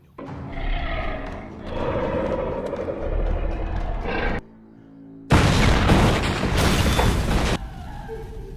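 A loud, rumbling bomb blast erupts in a monster film after a brief lull, following a stretch of low, dramatic rumbling, then settles back into a quieter drone.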